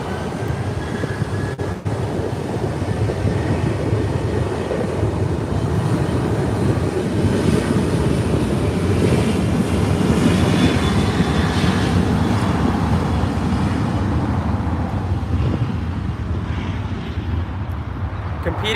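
A Southwest airliner on landing approach to runway 24R at LAX: a continuous broad engine roar that swells and slowly fades over nearly twenty seconds, mixed with nearby road traffic.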